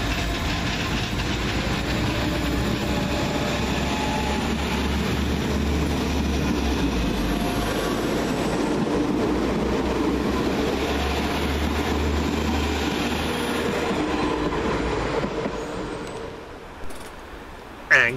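Two coupled West Midlands Railway Class 172 diesel multiple units pull out of Stourbridge Junction station, a steady deep engine drone with low throbbing and rail noise sustained for about fifteen seconds before fading to quiet.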